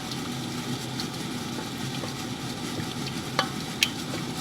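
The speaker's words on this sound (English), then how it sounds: "we need to stir it until all the chunks of flour have gone out" A spoon stirs flour into a butternut macaroni cheese sauce in a pan, giving a continuous soft scraping and bubbling sizzle with a couple of sharp clinks near the end, close and without speech.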